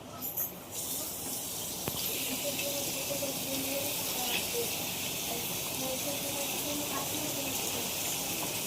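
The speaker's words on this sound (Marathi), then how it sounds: "सर्व चांगलं मस्त हे करून घेऊया आणि तेलात फ्राय करून घेऊया।" Masala-coated kupa fish frying in hot oil gives off a continuous bright hiss that swells right after it goes in, with faint talk underneath.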